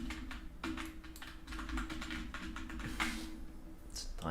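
Quiet computer keyboard typing, a steady run of soft, quick key clicks under a low background hum.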